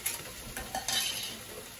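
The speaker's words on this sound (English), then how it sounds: "Same thing with the bamboo shoots. Drain them, add them to the pan" Drained bamboo shoots tipped into a cooking pan give a few quick clattering scrapes and a light sizzle, close and quiet with no talking.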